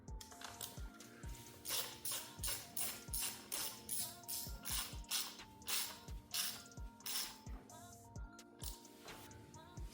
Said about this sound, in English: So I'm tightening down the bolts from the center outward.